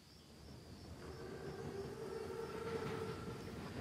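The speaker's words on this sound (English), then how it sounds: "Train's right on time." An armored train rolls past in the Call of Duty WWII video game as a steady, close mechanical rumble with a thin sustained whine, swelling slightly louder over a few seconds.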